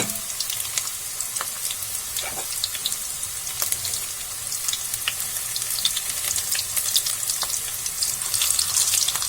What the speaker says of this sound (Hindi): सारे पकोड़े को इस तरीके से फ्राई करना है।